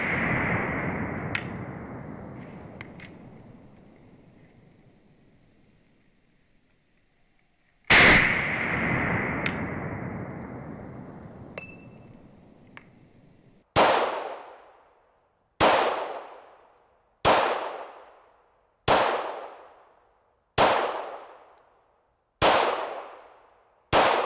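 Glock 17 Gen 4 pistol firing at a shooting range: two widely spaced loud shots with long ringing decay, then seven sharp evenly paced shots in quick steady rhythm, close and loud.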